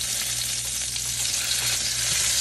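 Garlic frying in hot cooking oil at the start of a pancit bihon stir-fry, a bright, steady close-up sizzle with light stirring and a low background hum, no voices.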